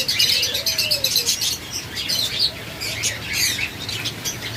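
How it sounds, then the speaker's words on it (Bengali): A caged cross-bred bulbul-like bird, a mix of native and foreign stock, calls loudly and repeatedly in bright, close chirps and squawks with no talk. "এটা ডাকও দেয় দেশি বুকুর মতো এবং প্রচণ্ড ডাকে"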